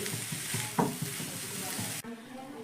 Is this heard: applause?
no